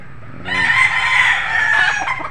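A street-breed golden boy sweater rooster lets out a single loud, close crow that rises sharply and holds for nearly two seconds, with no voices over it.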